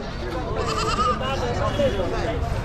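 Goats bleat in overlapping calls amid a noisy crowd at a large goat and sheep market in Chakan, Maharashtra, some near and some farther off, with people talking underneath.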